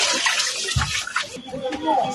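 Water runs and splashes while dishes and a frying pan are washed in a sink, a close, continuous gurgling wash with soft knocks, and a voice talks over it.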